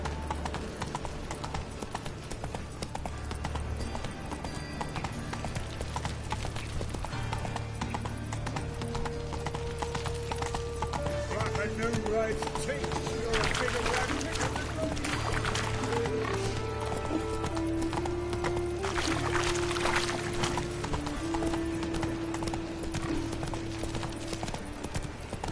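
A horse gallops in The Witcher 3 video game, with steady, continuous hoofbeats throughout, accompanied by faint whinnies and background game music.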